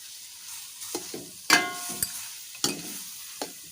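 Soya chunks and cut green chillies stir-fried in a pan, with a soft steady sizzle broken by several sharp scraping clatters of a spatula against the metal, close and fairly quiet, no talking.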